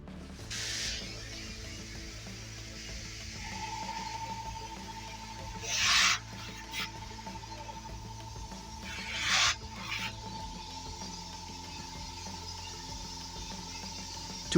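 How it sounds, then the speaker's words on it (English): Soft rhythmic rubbing of 2500 grit sandpaper leveling excess paint over a deep scratch on a car, faint and close, with a few brief louder hissing strokes and a low steady hum underneath. "we use 2500 grit sandpaper to remove the excess paint and level the surface"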